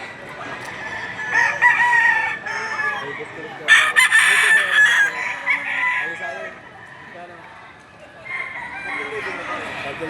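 A rooster crows repeatedly at a livestock market in Padre Garcia, Batangas, loud and close, with hens clucking, background murmur and a long strained crow rising above the noise.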